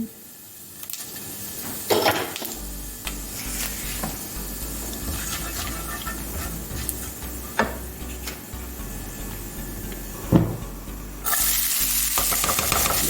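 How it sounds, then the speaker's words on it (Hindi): Cumin seeds hit hot oil with a bright crackling sizzle that keeps fizzing. Occasional utensil knocks and clinks sound close by, and the sizzle swells louder toward the end. "अब मैं थोड़ा सा ज़ीरा शामिल करूंगी।"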